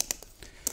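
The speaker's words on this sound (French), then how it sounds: "cassez votre panier à 2-3 endroits" Plastic pond plant basket for a water lily being cracked with pruning shears, giving a few sharp, brittle snaps spaced apart, close and fairly quiet.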